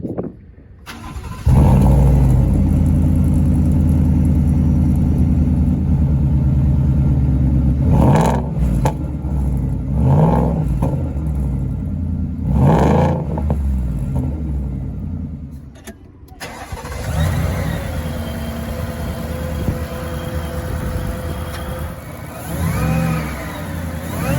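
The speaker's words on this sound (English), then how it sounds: "I wanted to give you guys a quick taste of how that Borla exhaust sounds. So we'll start the car and rev it a little bit" A 2019 Ford F-150 Shelby Super Snake's supercharged engine starts through its Borla exhaust, settles into a loud close idle, then is revved in several sharp bursts before easing back and revving again, with no talk.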